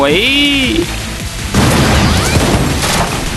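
A Blue Archive game sound effect with a rising tone gives way to a loud, booming bomb explosion that rumbles and crackles on for a couple of seconds.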